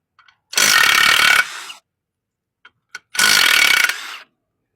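An impact wrench removes the 17 mm flywheel bolts from a 2013 Town & Country van engine in two loud, close bursts of about a second each. A few faint clicks come before and between them.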